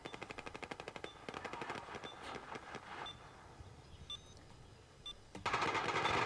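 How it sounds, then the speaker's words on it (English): Rapid bursts of automatic gunfire ring out in a Battlefield Obliteration match, rattling in quick repeated volleys with scattered single shots and beeps, then a louder burst of firing at the end. "The sound of gunfire in the background."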